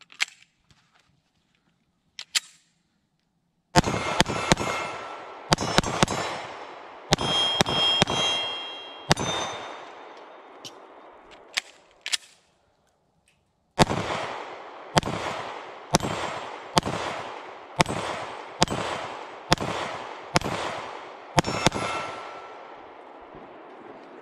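Springfield Armory Hellcat Pro 9mm pistol firing on an outdoor range: two separate strings of loud, sharp gunshots at a steady pace, each crack trailing off into a short echo, with no talking.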